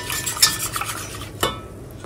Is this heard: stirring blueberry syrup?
yes